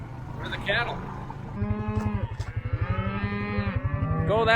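Cattle moo loudly and repeatedly on a South Dakota ranch, long droning calls close by, with a person talking briefly at the start.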